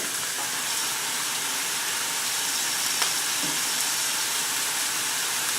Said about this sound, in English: if your pan is starting to spit oil at you, pick the pan up kind of like this